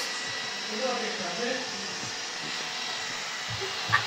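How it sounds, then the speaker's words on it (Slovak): A vacuum cleaner runs with a constant, even whine and hum, close and unchanging, with faint voices beneath it. "Už jede, ale nikam nejede ten vysávač."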